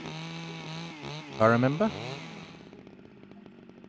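A chainsaw running in the survival video game SCUM, its steady buzzing drone sitting under a man's speech and continuing alone toward the end as a rapid idling rattle.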